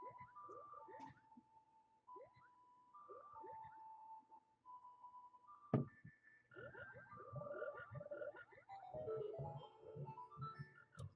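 Frog croaks from the video game Zelda: Ocarina of Time, a run of short, bouncy tonal chirps and gulping calls repeating over about eleven seconds at moderate loudness, with one sharp knock partway through.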